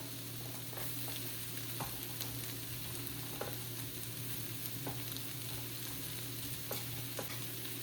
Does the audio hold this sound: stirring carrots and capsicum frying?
yes